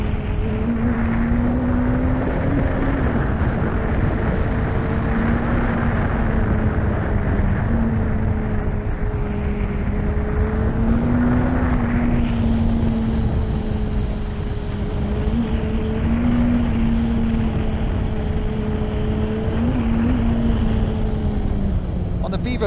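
A 2021 Suzuki Hayabusa four-cylinder engine held on throttle, a loud continuous drone with a steady low hum and slight pitch wavering throughout, close up.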